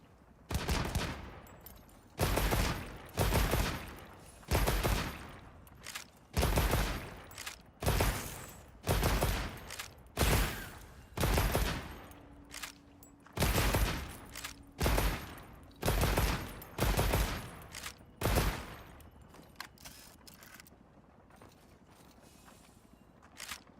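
Rapid bowgun firing in a video game, a long run of about fifteen loud evenly spaced shots, each a punchy burst with a short decay, in a steady repeating rhythm that stops near the end.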